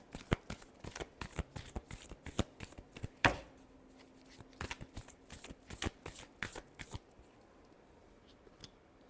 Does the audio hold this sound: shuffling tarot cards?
yes